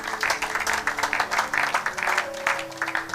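A church congregation claps together in a fairly steady rhythmic applause, moderately loud and sustained with a faint tonal hum running underneath.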